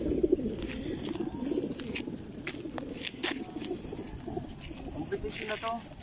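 Skyline racing pigeons coo softly at a pigeon competition among outdoor background noise, with people talking nearby.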